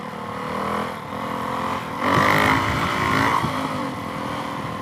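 A DRZ E model motorcycle with a stroker big bore, wide ratio gears and a Barker's exhaust accelerates hard in third gear, its engine note rising loud and close, then holding a steady roar.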